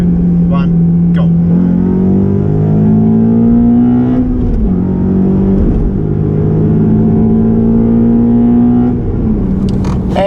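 A Nissan Skyline 250GT and a Honda Accord Euro S accelerate hard in a short rolling race, steady loud engine drone with rising pitch sweeps as gears change, close and continuous throughout.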